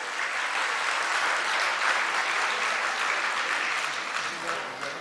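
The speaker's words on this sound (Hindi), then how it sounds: "ताली जोर से बजाओ दर इसी बात पे।" A large audience at a Jain monk's religious discourse in Kota, Rajasthan claps loudly and steadily, the dense applause filling the hall at an even level for several seconds.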